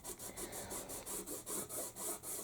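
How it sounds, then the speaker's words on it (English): Dried masking fluid is gently rubbed off watercolour paper in about a dozen quick, even strokes, a soft and close scratchy rasp with no voices. "So if you just gently rub masking fluid off there around these wavy bits there that's coming in on shore."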